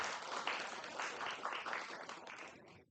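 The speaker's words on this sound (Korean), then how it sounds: "박수 한번 쳐주세요." Applause from a Buddhist temple family dharma gathering, a soft, distant wash of clapping from the audience that holds for nearly three seconds and then stops abruptly.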